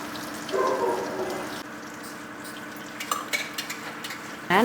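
Masala sautés in a pot for a chicken and rice feast, with a soft sizzle and spoon scraping and stirring in uneven bursts, some clinks of metal near the end.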